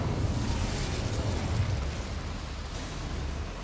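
An Incendio fire spell erupts in Hogwarts Legacy, a loud low rumbling burst that rolls on as a sustained roaring whoosh and slowly eases off, with no talking over it.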